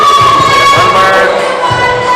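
A crowd at a top rope climbing competition cheers on a climber, a loud, close wash of shouting voices and whoops with a sustained whistle-like tone running through it.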